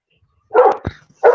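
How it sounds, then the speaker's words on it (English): A dog lets out two sharp barks about half a second apart, near and clear against a quiet background. "we can hear that dog pretty clearly"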